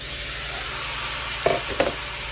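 Sliced beef goes into a hot pan for beef pares, giving a steady sizzle with two brief sharp clatters of utensils near the end.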